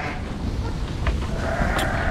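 Sheep bleat at feeding time on a farm during lambing season, voices faint and mixed into steady barn noise, with a couple of brief higher calls standing out near the end.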